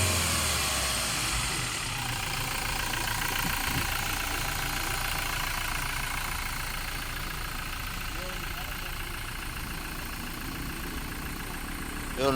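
A 2017 Toyota Fortuner engine idles just after starting, holding a steady, fairly loud mid-pitched rumble throughout with no change in rhythm. Voices can be heard talking over the engine.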